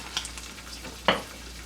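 Steady, faint sizzling of salmon frying in a covered pan, with a couple of brief scraping or stirring clicks; no voices.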